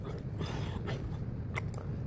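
Close, quiet chewing of a salad with avocado and potato, soft wet bites and a few crisp crunches in quick succession, with no talk.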